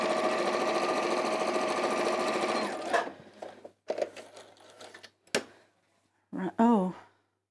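A sewing machine stitches fabric for a quilted beach hut wall hanging, running in a steady fast burst for about three seconds, then stopping and restarting in short spurts with a voice talking in the gaps.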